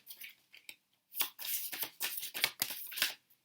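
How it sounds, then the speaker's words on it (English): Tarot cards being shuffled on a table, a run of crisp riffling and flicking bursts with short pauses between them, close and moderately loud, with no talking. "Actually, let's shuffle all the cards out."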